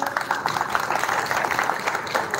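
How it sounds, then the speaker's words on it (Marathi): An audience at a cultural program in Navi Mumbai claps enthusiastically, a continuous patter of many hands that stays fairly even and moderately loud for a couple of seconds. "सगळ्यांनी जोरदार टाळ्या वाजवा."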